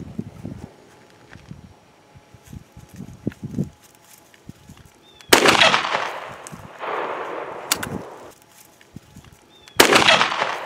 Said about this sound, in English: I mean, Dylan hit all three in one shot